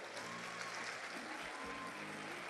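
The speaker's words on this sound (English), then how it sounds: "Please, a big applause for the people to receive you in the airport." Applause at the World Robot Olympiad in Panama for the security task force and the airport welcome team. The clapping is faint and distant, a steady, continuous wash of hands with no pauses.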